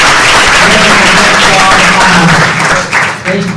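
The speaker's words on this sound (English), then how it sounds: "Big round of applause for Faye." An audience at a university startup event bursts into sustained applause, with dense clapping that fills the room and fades slightly toward the end.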